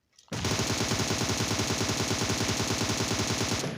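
Rapid automatic gunfire from a PUBG Mobile match, one loud sustained burst that begins after a brief pause and runs steadily to the end with no talk.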